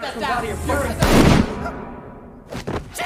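A single sharp gunshot cracks out mid-scene amid dramatic sounds and a brief voice, followed by a fading echo.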